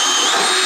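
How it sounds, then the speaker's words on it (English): A power drill bores a hole through a wood wall in a 1970s RV under renovation, a steady, loud, close whine with no pauses across the short stretch. "we wanted to drill a hole through the wood wall and get it underneath the bathroom"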